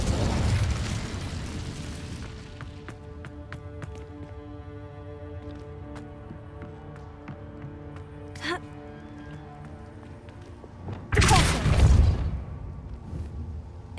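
A burst of fire flares up from an Incendio spell cast in Hogwarts Legacy on PS5, a loud roaring whoosh rising over steady game music and ambience, with a smaller pop shortly before it.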